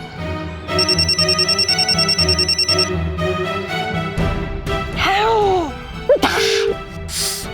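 A phone rings insistently with an incoming call, its bright repeated bell pulses sounding close and loud for a few seconds, then giving way to a shrill electronic sweep and chirps.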